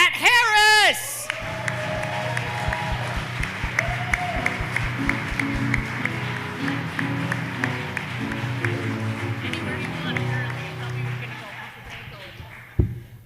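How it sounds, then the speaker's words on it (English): An audience applauds and cheers for Pat Harris at a St. Paul mayoral forum in a theater: a dense, loud burst of clapping and whoops that gradually thins, with voices calling out through it. "a round of applause one more time for Pat Harris!"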